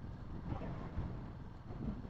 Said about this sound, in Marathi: वारा मरणाचा असा.